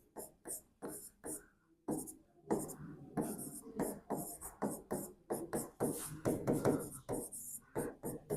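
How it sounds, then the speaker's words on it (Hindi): An equation being written by hand during a physics lecture on differential equations: quick, faint scratchy strokes in short rhythmic bursts, heard under a woman's soft speech. "एक मैंने ये इक्वेशन लिखी है"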